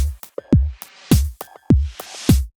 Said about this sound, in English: For the drum track, I use this great plugin called Break Tweaker